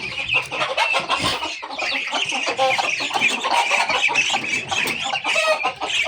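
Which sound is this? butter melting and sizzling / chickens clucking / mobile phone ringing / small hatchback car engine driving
chickens clucking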